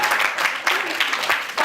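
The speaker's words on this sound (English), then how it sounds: "Round of applause for professional members." Audience applause at a keynote speakers' master class: a short, dense burst of clapping that fills the room at steady loudness, with a voice faintly mixed in.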